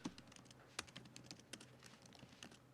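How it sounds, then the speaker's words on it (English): Typing on a computer keyboard: quick, irregular clicks and key taps at close range, quiet and steady with brief pauses. "Typing."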